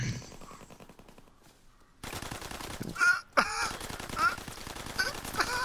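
Bursts of gunfire in a Call of Duty WWII prop hunt match follow a quiet start, then sharp shots and rattling bursts mix with other game noise and voices.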